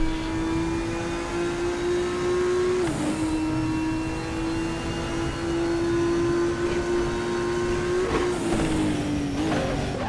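A single race car engine in RaceRoom Racing Experience holds a steady high drone through the corners, dipping briefly in pitch on a few downshifts and then climbing again, loud and close.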